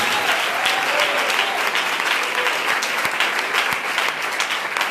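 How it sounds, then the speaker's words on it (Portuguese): A church congregation gives strong, sustained applause welcoming a pastor, dense clapping from many hands at a loud, steady level throughout. "Vamos receber o pastor Júlio com esse forte e bonito aplauso, dando glória ao nome do Senhor Jesus."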